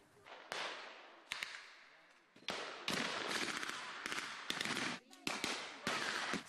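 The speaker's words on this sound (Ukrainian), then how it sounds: "Стрілянина не вщухає" Gunfire at a WWII battle reenactment, a ragged series of sharp cracking shots, some single and some in quick clusters, loud and close with echoing tails between them.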